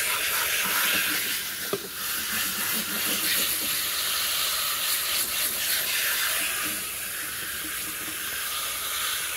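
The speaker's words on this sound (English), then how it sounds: "This is how I clean out my cartridges. I just get my little hose sprayer." A small hose sprayer steadily rinses a fish tank filter cartridge in a kitchen sink, giving a continuous close hiss of running, splashing water with no talk.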